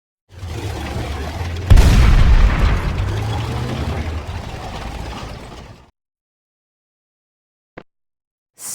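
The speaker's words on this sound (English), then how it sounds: "tank" A military tank sound effect: a rumbling engine with clanking track mechanisms and one loud boom early on, running for about five seconds before cutting to silence.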